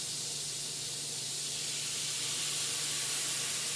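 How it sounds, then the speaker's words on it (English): Vinegar hits a hot skillet with pork chops and erupts in a steady, close steam hiss that stays even and broadband throughout, with no voices. "Now, vinegar sometimes jumps up in steam, so let's do this kind of gradually."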